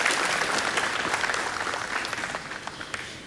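Audience applause for startup businesses at a startup showcase and accelerator finale, a steady wash of clapping from a large crowd that thins slightly near the end.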